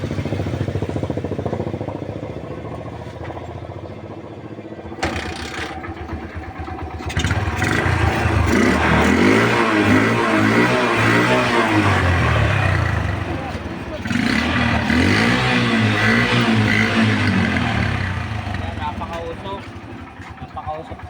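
A smoky motorcycle engine with worn piston rings starts and revs loudly, rising and falling in pitch over a steady idle, close by, with people talking underneath at times.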